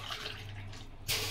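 A glass of water is poured into a heated pot on a gas stove, a brief rushing splash that starts suddenly near the end after a faint low background hum.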